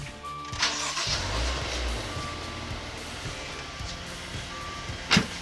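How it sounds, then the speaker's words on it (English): A Maserati Ghibli engine cranks and catches near the start, then settles into a steady, smooth idle with a faint whine, plus a brief louder clunk late on. "I will demonstrate for you now by turning the engine on"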